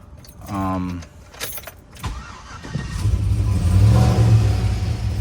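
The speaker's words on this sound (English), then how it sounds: "I'll fire it up in this clip so you guys can hear it" Keys jingle briefly, then a cammed Chevy Tahoe engine cranks and catches, settling into a loud, lumpy rumbling idle with a few rising revs.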